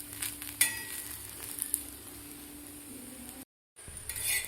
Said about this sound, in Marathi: अशा प्रकारे दाबून आपल्याला गवार भाजायचे आहे.